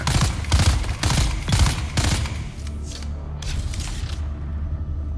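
Enemy gunfire in the Dune Awakening game, several rapid bursts of automatic fire close by during the first two seconds, then fading to softer scattered shots and ambient wind, no voices.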